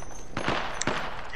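Rapid automatic gunfire from the video game Apex Legends, a few loud close bursts in quick succession over constant game noise.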